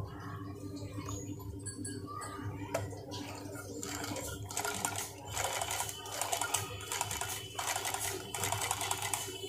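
A hand-repaired sewing machine that cuts its thread and makes bad stitches runs in short, uneven bursts of quiet clattering stitching, faint and close, with the motor starting and stopping irregularly.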